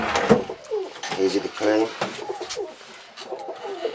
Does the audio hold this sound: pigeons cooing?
yes